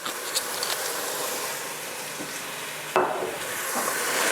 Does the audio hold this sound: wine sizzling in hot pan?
yes